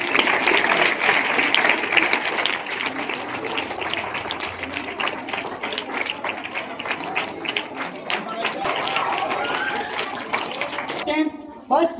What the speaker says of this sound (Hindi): तालियां बजाते रहिए आप लोग।